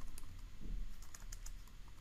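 Someone types a command on a computer keyboard, giving a quick run of close, light key clicks over quiet room hum.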